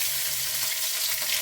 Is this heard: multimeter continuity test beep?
no